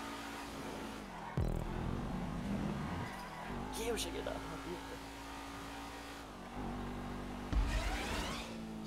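Engine revving and car noise from the video game GTA V, a steady drone with a couple of sharp bumps or skids, running under casual Portuguese chatter from players.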